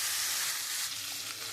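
Vegetables frying in a pan until reddened, a dense, bright, steady sizzle held close and loud throughout, with no speech.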